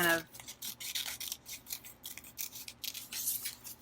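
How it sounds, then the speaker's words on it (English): Scissors snip through paper to cut out a journaling page pattern, a close, steady series of soft crisp cuts and rustles repeating through the whole span. "just cut the pattern out just to see if I like it"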